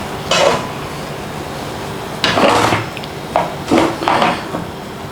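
An egg, ham and cheese toastie being turned over in a pan, with several distinct clanks and scrapes of a utensil against metal between quieter stretches.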